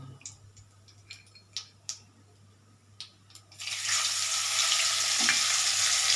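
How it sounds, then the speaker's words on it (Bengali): Whole cardamom, cinnamon, cloves and black pepper are tempered in hot oil. Brief clinks and taps come first, then a loud, steady sizzle rises and holds to the end. "এই দেখো এলাচ দারচিনি লবঙ্গ আর কালো গোলমরিচ এ কটা আমি ফোড়ন দেবো"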